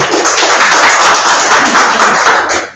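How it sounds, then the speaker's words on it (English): An audience at an annual meeting and expo applauds, a dense, steady wash of many hands clapping that holds loud and even for nearly three seconds before trailing off at the end. "I don't get applause very often"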